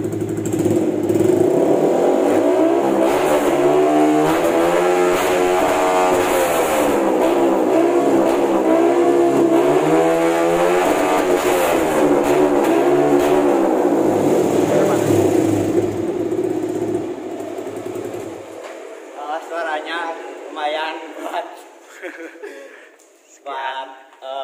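A Yamaha R15 V3 motorcycle fitted with a CLD GP Monster exhaust revs up and down, loud and raspy at close range for about fifteen seconds. The engine then cuts out, and people talk.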